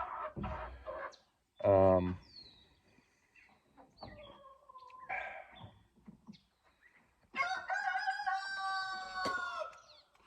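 A rooster crows loudly nearby, followed by quieter clucks and a second drawn-out crow, with a person talking softly in between.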